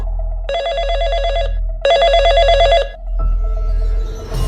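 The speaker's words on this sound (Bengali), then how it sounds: "বাড়ির ফোনটা বেজে উঠল" An electronic home landline telephone rings in two long bursts separated by a short pause, loud and close, followed by a quieter stretch of background noise.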